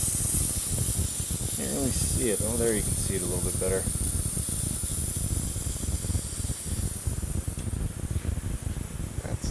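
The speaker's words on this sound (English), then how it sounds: "It's just sizzling away in there." A dented truck panel hisses and sizzles from inside during repair, a steady loud spray-like hiss that slowly fades, with someone talking over it.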